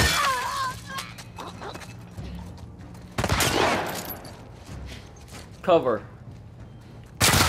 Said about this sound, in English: Where did that shot even come from?